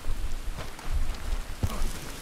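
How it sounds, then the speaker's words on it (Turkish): Heavy rain in the video game Red Dead Redemption pours as a steady, dense hiss with scattered louder drops and patters, continuous and fairly loud, with no voices. "Yağmur çok sert yağıyor ama"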